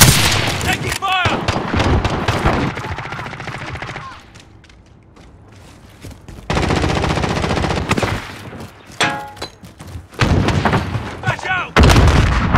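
AA-12 shotgun firing Dragonbreath rounds in Call of Duty Modern Warfare, loud rapid automatic blasts in several long bursts separated by quieter pauses.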